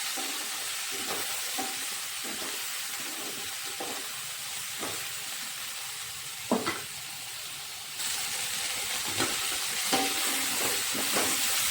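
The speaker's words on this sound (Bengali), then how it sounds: "আলু কপিগুলো ভাজা হয়ে গেছে" Potato and cauliflower pieces frying in hot oil, a continuous close sizzle and hiss with occasional stirring clatters and pops.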